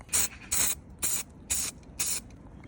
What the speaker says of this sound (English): let's get this basically painted up in some primer